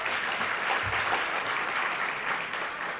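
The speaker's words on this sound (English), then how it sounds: "Yes, let's give her a round of applause." Audience at a business breakfast gives a round of applause, a steady, even burst of clapping across the room with no talking.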